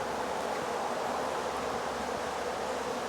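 Honeybees from a Kona queen nucleus being moved into a hive body in bad weather, a steady dense buzzing swarm, close and continuous with no pauses.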